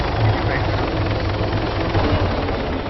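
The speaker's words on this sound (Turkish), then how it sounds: "O mu sürüyor helikopteri?" A helicopter's rotor drones in a steady, rumbling chop in the video game ArmA 3, loud and continuous, with a voice faintly mixed in underneath.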